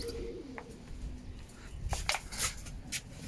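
Racing pigeons arriving home after a 290 km race make soft, low cooing calls, faint against a steady outdoor background hiss, with a few short, sharper bursts of sound near the end.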